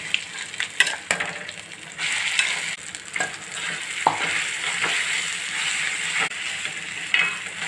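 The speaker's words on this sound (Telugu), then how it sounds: "పోపు వేగిపోయిందండి. ఇప్పుడు పచ్చడి వేసేస్తున్నాను నేను." Mango coconut chutney stirred into a sizzling tempering in a pan, a steady frying hiss broken by repeated scraping stirs and sharp crackles, close and clear with no talk.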